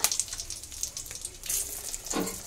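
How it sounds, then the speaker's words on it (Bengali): Bay leaves and dried red chillies crackle and sizzle in hot mustard oil, a steady close frying hiss with brief bursts of louder spitting, no voices. "তেল গরম হয়ে গেছে, এই যে তেজপাতা দিয়ে দিলাম, শুকনো লঙ্কা"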